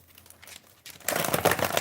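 Tarot cards are shuffled close up, starting as soft rustling and then building into louder, denser riffling and crinkly slapping over the last second, with no voices.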